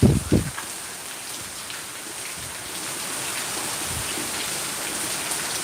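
Rain patters steadily on a roof at the front of a house, a broad continuous wash that grows slightly denser, after a couple of brief thumps at the start.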